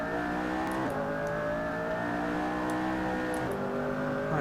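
A McLaren P1 hybrid supercar in the Assetto Corsa racing game, its engine roaring loud and steady under a KERS power boost, with layered engine tones climbing in pitch as it accelerates.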